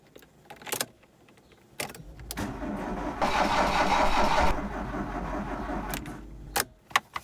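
A restored VW Golf GTI engine cranks over with a whirring churn for a couple of seconds without catching. Faint clicks and a key jingle come just before and after.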